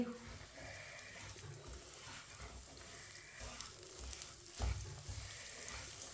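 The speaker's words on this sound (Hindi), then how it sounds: "मीडियम आंच पे भूनना है सूजी को।" Semolina roasting in ghee over medium heat makes a soft, low sizzle with occasional stirring scrapes and one louder knock near the end, while someone talks over it.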